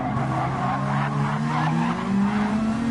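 A race car skids and slides loosely in a racing video game, steady engine drone with drawn-out tire squeal running continuously at close, even loudness.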